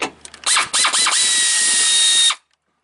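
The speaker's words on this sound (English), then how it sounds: "I've got a little miniature air ratchet that we're going to use" Miniature air ratchet loosening headlight bolts on a 2011 second-generation Toyota Tacoma: a few quick stuttering bursts, then a sustained high whine lasting about two seconds before it cuts off, close and loud.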